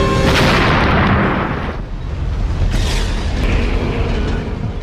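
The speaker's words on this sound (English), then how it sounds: "another 74 missiles rain down on Al-Qaeda targets in wave after wave of devastating explosions" Deep, sustained roar of Tomahawk cruise missile explosions striking an Al-Qaeda training camp, a loud rumbling blast that rolls on and tails off before a second heavy burst, with no voices.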